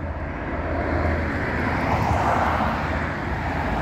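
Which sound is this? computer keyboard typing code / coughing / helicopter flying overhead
helicopter flying overhead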